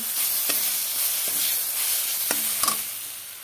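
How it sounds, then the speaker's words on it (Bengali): Spice paste sizzles and hisses steadily in hot oil while a spoon scrapes and stirs it in a few distinct knocks, close and continuous. "এদিকে মশলাও কষাতে বসিয়ে দিলাম কষানোর জন্য।"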